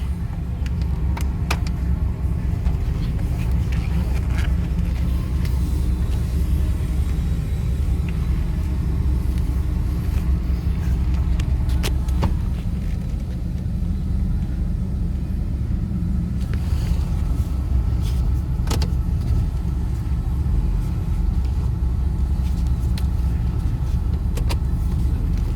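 A 2016 Ford Super Duty F-350 dually pickup with a 6.7L diesel engine drives along, its low, steady engine and road rumble constant throughout, with occasional faint clicks and rattles inside the cab.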